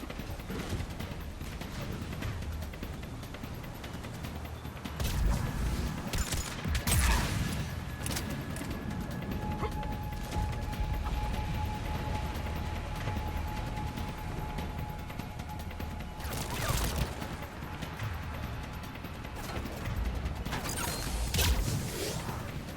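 Gunfire in a Mass Effect 3 firefight: bursts of weapons fire over continuous dense battle noise, with louder volleys around the middle and near the end and little talk.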